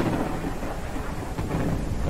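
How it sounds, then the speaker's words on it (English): A thunderstorm in the ranch-building game Ranch Simulator: steady, dense rain hiss with deep rolling thunder rumbling beneath it, loud and continuous throughout, with no voices. "this is a great time to do some demolishing in the middle of a thunderstorm"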